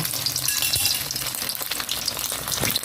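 Leftover suman rice cake fries in a pan with a steady close sizzle broken by occasional stirring clatter, and no talking.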